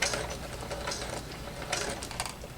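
A sewing machine runs a short reverse back stitch, its quick mechanical clatter steady and close with a few brief bursts of faster stitching, no voices.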